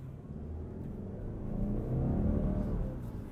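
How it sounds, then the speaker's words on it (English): A 2020 Subaru Outback accelerates at full throttle, its engine rumbling low and steady, rising in strength midway as the revs climb, heard from inside the car with no talking. "That was me flooring it"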